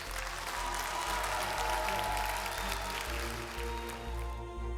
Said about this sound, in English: Please, let's give them all one big round of applause.